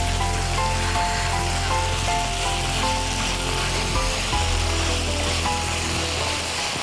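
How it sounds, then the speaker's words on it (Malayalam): Drumstick leaves sauté in ghee in a pan, giving a steady, close, continuous sizzle with occasional stirring scrapes and no talking. "ഒരല്പസമയം ഇങ്ങനെ വഴറ്റിക്കൊണ്ടേയിരിക്കാം."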